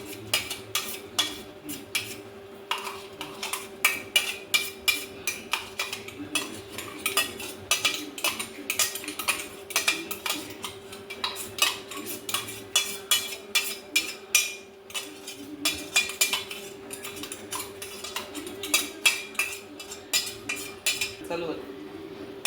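Metal spoon scraping and clinking against a pan as spice paste is stirred and sautéed with mutton, a busy, irregular run of close clatters over a steady low hum.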